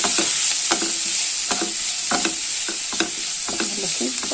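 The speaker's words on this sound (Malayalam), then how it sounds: "ഈ മസാലയുടെ കൂട്ടത്തിൽ നമ്മൾ എടുത്ത് വെച്ചിരിക്കുന്നത് ചിക്കൻ ബീഫ് കൂടെ ഇടാം" Chicken pieces stirred into a masala in a pan, no oil used, with a steady sizzle underneath and repeated scraping spoon strokes at an uneven rhythm, close and fairly loud, with no talking.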